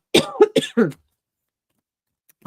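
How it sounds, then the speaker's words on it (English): A quick burst of three or four harsh coughs close up, followed by silence and the start of a voice. "I'm sorry that I'm coughing"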